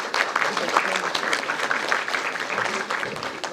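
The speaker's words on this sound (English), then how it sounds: "Everyone please give a huge round of applause" An audience at a signing ceremony between a university and a textile institute gives a round of applause, a continuous mass of clapping with voices murmuring underneath.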